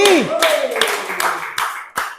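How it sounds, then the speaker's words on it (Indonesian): An audience at a talk claps in several separate bursts, each fading before the next, fairly close and loud, after a brief tail of a voice at the start. "Berikan tepuk tangan sekali lagi"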